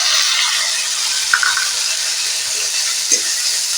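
Steady bright sizzling of snails, onion, ginger, cumin and chili powder frying in a pan, a continuous close hiss with a couple of faint stirring scrapes and no talking.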